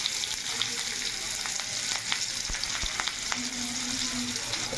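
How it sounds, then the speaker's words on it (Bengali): Onion and black cumin (kalonji) fry in hot oil with a loud, steady, dense sizzle and a few scattered crackles throughout; no one speaks. "তেল দিয়ে দিলাম, দিয়ে কালো জিরে দিয়ে দিলাম, পেঁয়াজ দিলাম"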